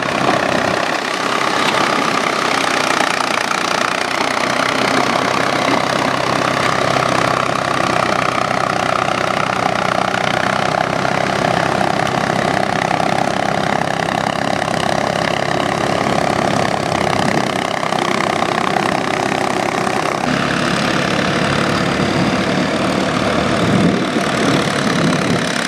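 A Ford 4600 tractor with a 3.3-litre engine plows a muddy rice field, its engine running loud and steady without a break, a constant droning roar with some rougher patches.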